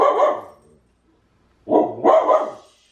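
A dog gives close, sharp barks indoors, one at the start and a quick double bark a moment later.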